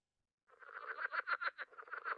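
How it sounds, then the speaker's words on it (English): A southern leopard frog calling alone, a close, rapid chuckling croak of pulsed notes starting abruptly and continuing steadily against silence. "Here's the call of the southern leopard frog."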